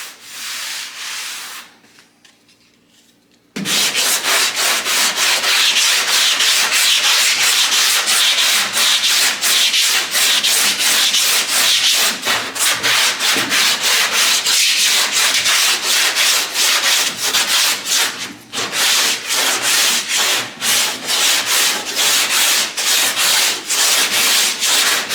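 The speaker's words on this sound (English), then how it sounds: "so you can keep sanding." Bondo body filler and epoxy primer being sanded on a car body, a loud, steady scratchy rasp that runs almost without a break after a short quiet start, close and alone with no talk.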